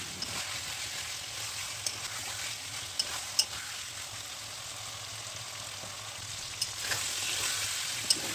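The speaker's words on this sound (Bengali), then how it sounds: "এখন আবার চিকেনটাও কষাচ্ছি এই কড়াইয়ের মধ্যে।" Chicken sautéed in a kadai for a chicken biryani gives a steady, fairly quiet sizzle, with a few sharp spatula clicks and scrapes as it is stirred; no one speaks.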